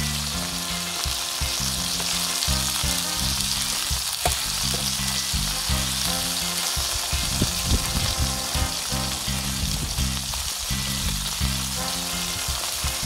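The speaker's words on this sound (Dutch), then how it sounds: "Russel ze een beetje lekker door de pan." Shellfish sizzling and frying in olive oil in a paella pan while being stirred, a steady loud crackle with soft scraping and clinking throughout, no talking.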